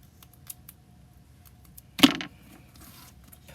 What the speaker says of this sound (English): grab my scissors and I'm going to cut a dimensional in half.